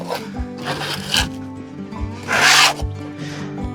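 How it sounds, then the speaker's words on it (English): Putty knife scraping up chunks of soiled poultry bedding, a few rough rasping scrapes and rubbing strokes close by, with one louder, longer scrape near the end. "See how nice it scrapes right up into chunks."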